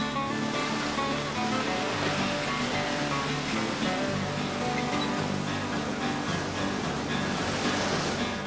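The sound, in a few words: ocean waves surging at Makapu'u Bay, Hawaii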